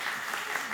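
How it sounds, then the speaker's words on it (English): Brief burst of audience applause at a food heritage event, a steady wash of clapping from a seated crowd with no break. "Please give her a warm round of applause."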